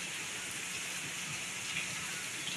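Heavy rain pours down in a dense, constant wash of hiss with no pauses, loud and even, flooding a house during the Diwali season.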